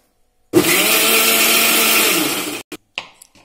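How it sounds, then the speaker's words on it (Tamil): A mixer grinder whirs loudly and steadily for about two seconds, blending mango with sugar and milk, then cuts off with a few short bumps and clatters as it stops. "இப்போ இந்த மாதிரி அரைச்சி எடுத்துக்கோங்க நல்லா மெலிசா"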